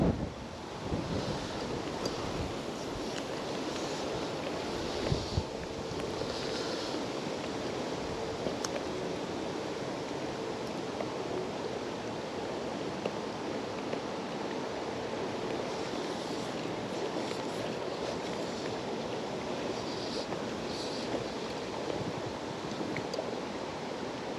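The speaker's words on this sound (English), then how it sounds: "Bit of wind blowing." Steady wind buffets the microphone beside the River Doon in Ayrshire, Scotland, during fly fishing, a constant broad rushing roar with gusty swells and a faint background wash of flowing water.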